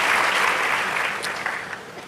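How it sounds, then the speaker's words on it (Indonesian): Applause from a church congregation during a Sunday worship service, a dense burst of clapping that is loud at first and then gradually thins and fades toward the end. "Boleh tepuk tangannya di extend buat worship leaders"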